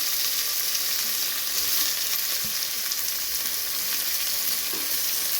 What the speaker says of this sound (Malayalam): ശകലം വെളിച്ചെണ്ണയും കൂടെ ഒഴിച്ചിട്ട് നമ്മൾ ഇതങ്ങോട്ട് ഇട്ട് കൊടുക്കുക.